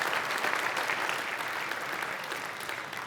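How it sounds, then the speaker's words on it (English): Audience applause at a basketball league awards night, a dense, steady wash of clapping from a large crowd sustained throughout without a break. "a round of applause for all of our commercial"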